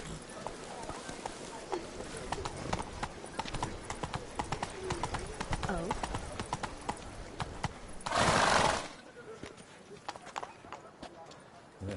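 The horse Roach galloping in The Witcher Wild Hunt, rapid close hoofbeats drumming steadily for several seconds, with a voice speaking over it, a short burst of loud noise near the end, then quieter hooves.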